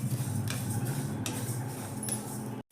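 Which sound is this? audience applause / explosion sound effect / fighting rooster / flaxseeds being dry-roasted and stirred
flaxseeds being dry-roasted and stirred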